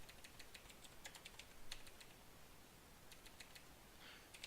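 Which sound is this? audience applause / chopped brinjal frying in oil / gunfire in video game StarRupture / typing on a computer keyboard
typing on a computer keyboard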